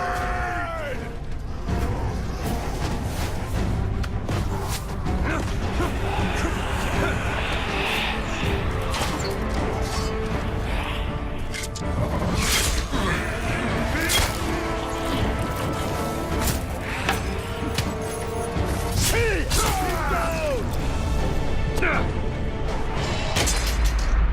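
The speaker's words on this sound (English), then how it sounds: "Destroy the gate!" A fortress gate is battered and smashed during a siege battle in Middle-earth: Shadow of War, with heavy crashes and booms repeating over a dense, continuous din of fighting and clanking mechanisms.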